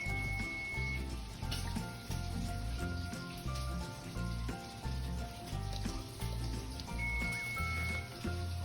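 Ribeye steak sizzling in a pan with butter, heard as a continuous crackling fry under soft background music, moderately quiet and steady.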